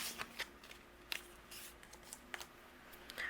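A bone folder rubs along a score line on patterned paper while making a shutter card, producing soft, close, repeated scraping strokes in a quiet room.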